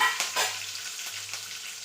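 Curry leaves crackle in hot oil for tempering while curd rice is being made, a soft, steady sizzle with a few brief pops and stirring sounds, heard alone and fairly faint.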